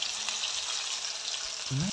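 Soya chunks frying in oil over a high flame, a steady crackling hiss that stays constant, with a short voice sound near the end.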